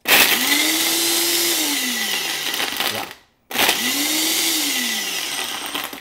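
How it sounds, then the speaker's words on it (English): A blender making a smoothie roars loudly in two bursts, its motor pitch dipping as it works, separated by a brief silent pause. "you're making a smoothie because these types of machines makes a lot of noise"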